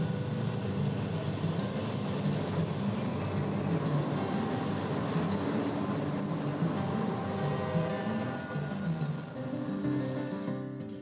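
A Union Pacific coal train on the Moffat line, hauled by a GE AC4400 diesel locomotive with a 4,400 horsepower engine, rolls past in a steady, loud rumble of wheels and cars with a high metallic squeal toward the end.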